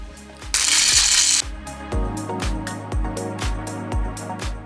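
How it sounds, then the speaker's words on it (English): A Ninja Blast blender crushes ice in short pulsed bursts, loud rattling chops starting and stopping in a rough rhythm after an initial roaring spin. "since we're doing ice, we're gonna be using the crush option."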